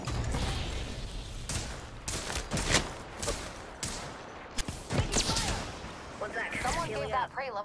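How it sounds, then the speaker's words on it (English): Video game gunfire in Apex: sharp, close bursts of shots and impacts in irregular clusters, with game voices talking over parts of the action. "Taking fire."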